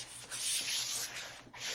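Soft, scratchy rubbing strokes of a hand smoothing a painted surface coated with wax, several short back-and-forth passes close by with brief pauses between them.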